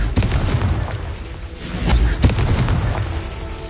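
Confringo fire spells blasting in Hogwarts Legacy, a run of booming explosive bursts with sharp pops over continuous game ambience, loud and close.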